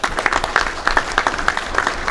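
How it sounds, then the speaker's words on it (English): A community audience at a mayor's night out gives a round of applause, a brisk burst of many hands clapping, fairly close and loud for a couple of seconds. "Could we give them a big round of applause?"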